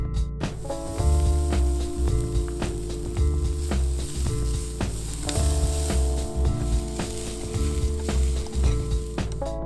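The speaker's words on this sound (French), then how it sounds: "Mes poivrons sont légèrement revenus" Bell peppers sizzle steadily in a hot pan while cooking veggie Mexican tortilla filling, a continuous close frying hiss with scattered sharper crackles and pops throughout, no voices.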